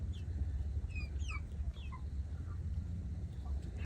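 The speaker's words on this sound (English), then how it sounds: "That's a rooster." A rooster among chickens gives a few soft, short clucks and chirps over a low steady background rumble, fairly faint, with no talking.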